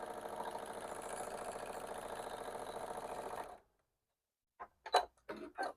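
A sewing machine stitches fabric in a fast, steady mechanical whir for about three and a half seconds, then stops abruptly, followed by silence and a few short handling clicks and rustles.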